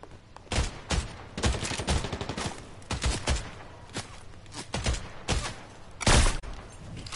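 Sniper rifle fire in Fortnite: a rapid string of sharp, loud cracks, some clustered in quick bursts and others spaced apart, punching out close by over a quieter game background.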